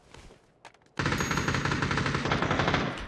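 K2 assault rifle fire in the shooter game PUBG: after a second of quiet, a loud, sustained burst of rapid automatic shots runs unbroken to the end.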